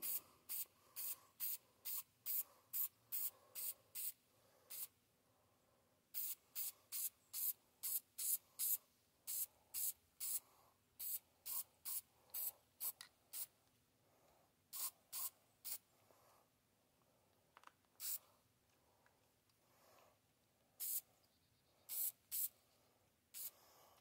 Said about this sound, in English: It doesn't take a lot of paint. I'm only doing one thin coat.